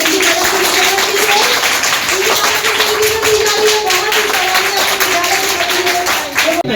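Audience applause at a school prize ceremony during a cleanliness fortnight event in Fatuha, cheering for a girls' high school: steady, dense clapping that lasts throughout, with a faint tonal hum underneath.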